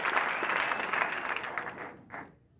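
A television studio audience applauds a talk show monologue, with strong clapping that thins and fades toward the end, followed by a last short burst before it dies out.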